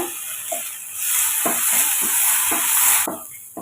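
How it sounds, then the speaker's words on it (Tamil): Banana pieces sauté in ghee in a hot pan, a close bright sizzle with several rhythmic stirring scrapes, loud and steady, and no voices. "நெய் விட்டுட்டு ஒரு சின்ன பழமாக கட் பண்ணி எடுத்துக்கோங்க அதை கொஞ்சமாக ஒரு ரெண்டு நிமிஷம் நம்ம வதக்கி வச்சு எடுத்துக்கோங்க"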